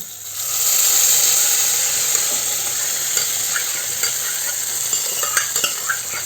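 Mashed cooked lentils are stirred into spinach in a pan for keerai kadayal, making a close, continuous wet stirring hiss with light utensil scrapes and clicks near the end.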